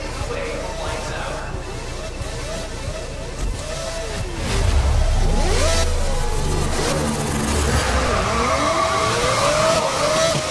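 Grid 2019 race cars rev and accelerate off the starting line, several engines swelling loudly with rising and falling whines as they pull away, a speaking voice heard faintly early on.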